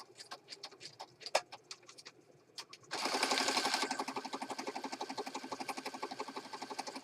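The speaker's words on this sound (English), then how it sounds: "So I'm just going to stitch right over this." A sewing machine stitches through layered junk journal pages, a fast steady mechanical rattle that starts after a few soft taps and runs on without pause, fairly close; faint bird cooing sits in the background.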